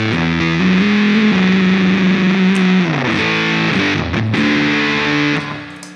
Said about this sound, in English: One of my favorite fuzzes ever.